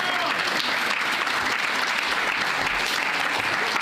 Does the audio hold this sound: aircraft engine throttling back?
no